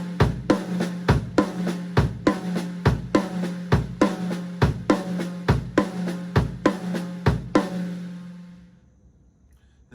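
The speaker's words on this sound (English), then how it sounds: "You're just putting triplet eighth notes over every quarter note grouping." Drum kit playing a steady linear triplet pattern of right hand, left hand and kick drum, evenly spaced close hits repeating for about eight seconds before ringing out into silence.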